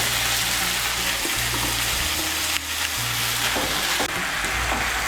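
Chopped bottle gourd leaves dropped into hot oil with frying spices, giving a loud, dense sizzle that fills the whole stretch, with a brief dip and rustle as the leaves land and settle.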